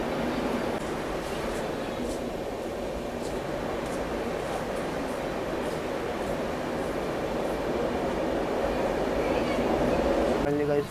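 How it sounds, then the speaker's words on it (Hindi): Inside an AC chair car of the Shatabdi Express pulling out of Tundla station, a steady, dense rumble of wheels and carriage noise fills the cabin without pause, with a faint hum of air conditioning beneath. "फाइनली गाइस ट्रेन निकल चुके हैं टुंडला से।"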